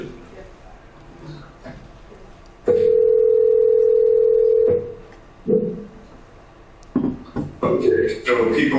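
On a county commission meeting's conference call line, a steady telephone dial tone sounds loudly for about two seconds, with quiet room noise before and people talking afterward.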